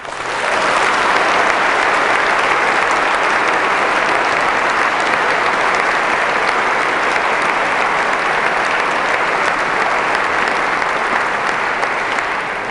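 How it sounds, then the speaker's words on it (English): A university debate audience applauds the debaters on William Lane Craig and Peter Millican, a dense, steady roar of clapping sustained at full loudness for the whole stretch. "I think we owe them a round of applause for that."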